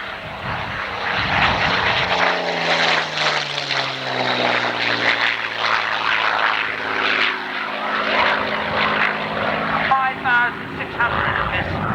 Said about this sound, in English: here's John Farley bringing the Spitfire in from our left